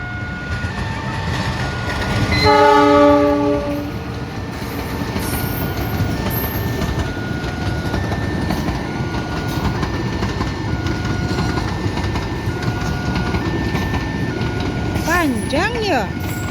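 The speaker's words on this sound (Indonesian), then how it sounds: "Panjang ya keretanya ya." The Ranggajati passenger train on its Jember to Jakarta route rolls past with a steady loud rumble of wheels on rail, a horn-like tonal blast early on and faint squeals near the end, while people talk nearby.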